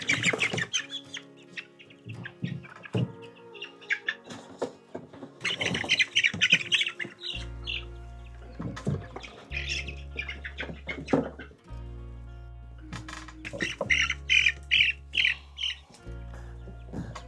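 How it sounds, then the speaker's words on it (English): Several roosters squawk and cluck loudly in bursts while being moved, with flapping and low thumping of a chicken tractor or crate underneath, and no talk. "Some of them are definitely roosters because they're trying to attack."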